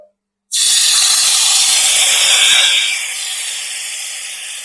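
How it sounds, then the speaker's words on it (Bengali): A bowl of mixed spice paste poured into a little hot oil for a rohu fish curry sets off a sudden loud, close sizzling roar after a moment of silence. The roar holds for a couple of seconds, then eases to a lower steady hiss. "সেই মশলাটা এবার দিয়ে দেবো তেলের মধ্যে"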